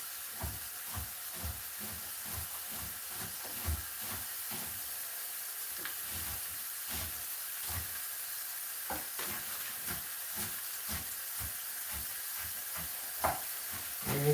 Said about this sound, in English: You can see the onion cutting going on, not very well